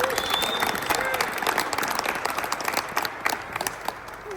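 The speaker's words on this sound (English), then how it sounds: "Big clap to Alex." An audience applauds Kenyan coach Alex Sang after his talk, a dense, continuous wash of clapping filling the room, with some voices mixed in.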